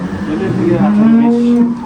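A dairy cow on a farm gives one loud, close moo that swells and then trails off, nearly two seconds long.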